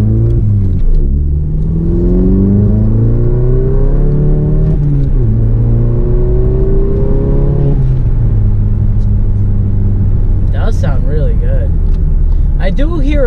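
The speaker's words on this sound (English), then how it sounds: "Hopefully there's some intake noises." A VW MK7 GTI accelerating on a main road, its engine pitch sweeping up through the gears with a steady rumble and a faint whir of induction, heard from inside the cabin under continuous talk.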